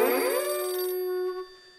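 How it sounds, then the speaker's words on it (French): Cartoon telephone ringing in a children's animated show: one bright electronic bell trill, loud and alone, fading out toward the end. "Chez les ours bruns, ça sonne, car il y a beaucoup de téléphones."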